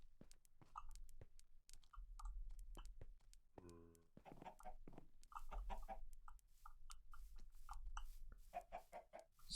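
Chickens cluck in a Minecraft game world, with short repeated clucks and a brief burst of rapid pulsing near the middle, heard over a low steady background.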